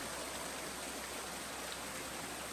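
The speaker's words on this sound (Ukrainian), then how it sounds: "У дворі монастиря дуже красива природа, течуть струмочки, фонтани" Small streams and fountains run through a monastery courtyard, making a steady, even rush of flowing water with no voices.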